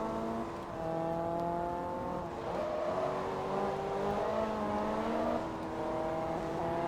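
A Ford GT race car in Forza Motorsport 2 revs hard and shifts through gears, its engine whine rising and dropping in steady sweeps, loud and close, with no voices.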